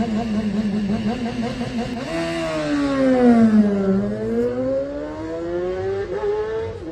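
A racing motorcycle at the Manx Grand Prix pulls away hard in a wheelie, its loud engine revving and climbing through the gears close by, with a steady roaring whine throughout.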